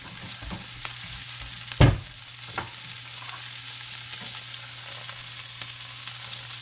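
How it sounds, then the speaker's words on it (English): Fish sisig ingredients for a halibut sisig sizzle and fry in a hot pan, a steady soft hiss throughout with one brief louder clatter near the start, close by with no talking. "When it starts sizzling like that"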